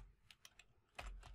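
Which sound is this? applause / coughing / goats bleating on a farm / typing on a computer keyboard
typing on a computer keyboard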